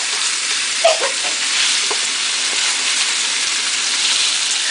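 A salmon fillet sautéing in a pan, giving a steady, bright, hissing sizzle close by with a small clatter as it is flipped early on, no talk.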